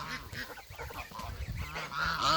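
Geese honk loudly and repeatedly at feeding time, a dense overlapping chorus of nearby adult geese with goslings among them, with no talking.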